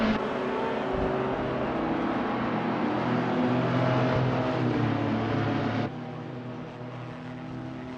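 A 1970 Lancia Stratos Zero racing car engine in a racing video game, a steady sustained drone at speed that drops abruptly to a quieter hum near the end.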